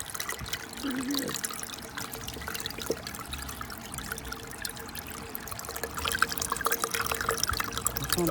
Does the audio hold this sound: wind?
no